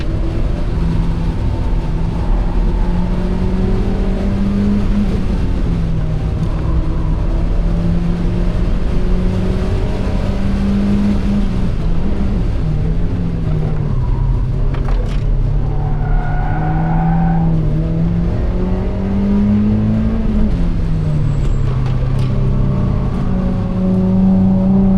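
Cars driving, each with a 1.8-litre VVT 145 hp engine, give a steady, loud engine drone throughout, the pitch rising and falling as revs change, with no talk.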